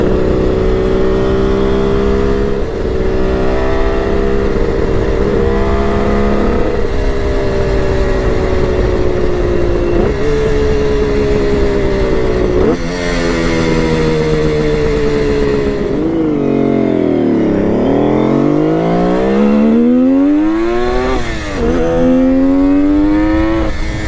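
A Kawasaki KH500 H1 two-stroke triple motorcycle accelerating hard away from a stop sign, its loud buzzing engine climbing through the gears with rising pitch and brief dips at each shift, heard close and continuous.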